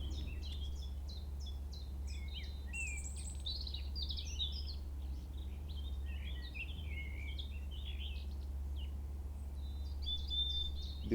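Birds sing and chirp outdoors in the open air, a steady stream of high, quick calls over a constant low hum of background noise, with no talking.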